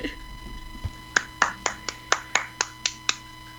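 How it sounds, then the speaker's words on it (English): A single person clapping in a steady rhythm, about ten crisp, fairly close claps spaced evenly over a few seconds, with no talking. "Oh, Sappy's clapping too, look."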